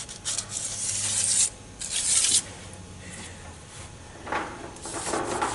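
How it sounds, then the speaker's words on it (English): Sandpaper of 200 grit rubs over the gasket mating surface on a 2012 Kia Soul transmission, a steady close rasping with strokes that swell and fade in bursts, alone without voices. "some sandpaper and sand down the gasket mating surface"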